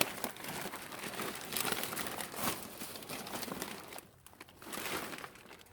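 Tissue paper found while dumpster diving crinkles and rustles as it is handled, continuous crackling close to the microphone with a brief quieter gap near the end.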